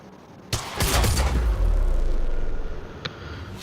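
Gunfire in the Quantum Break video game: a sudden loud burst of shots and booming impacts that rumbles for about two seconds and then fades, followed by one more sharp crack.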